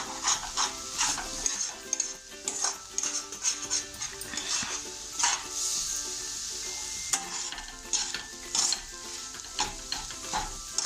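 Egg bhurji with onion, greens and vegetables stirred in a sizzling pan, a steady frying hiss broken by repeated clinks and scrapes of the spoon against the metal, close and alone with no voices.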